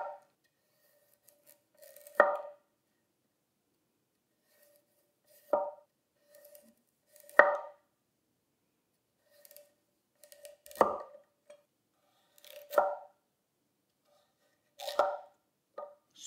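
A honyaki nakiri knife slices through a dense carrot on a board, giving about seven crisp, separate cuts spaced a couple of seconds apart, close and clear against near silence.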